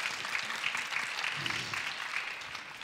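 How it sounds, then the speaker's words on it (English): Audience applauds a school principal at a Teach for Bulgaria gathering, a soft, even patter of many hands clapping, somewhat distant and continuous for a few seconds. "so let's give her a round of applause."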